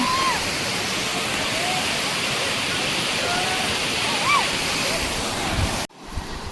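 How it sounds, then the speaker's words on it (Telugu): A steady, loud roar of rushing water pours without pause at Paritala waterfalls, broadband and constant, with faint bird chirps above it before it cuts off abruptly near the end. "వాటర్ అయితే బాగా వస్తున్నాయి అనమాట."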